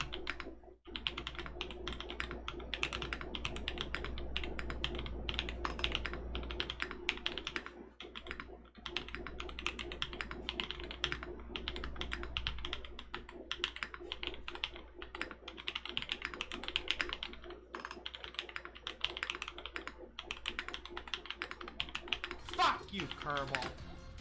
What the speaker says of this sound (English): I think the keyboard sounds nice.